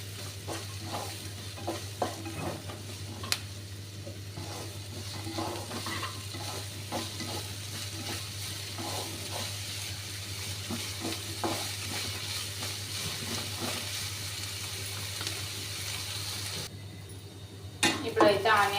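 Onions and two green chilies fry in a pan for bitter gourd pulusu while being stirred: a continuous close sizzle with repeated soft scraping strokes and a low steady hum, ending in a few louder clatters.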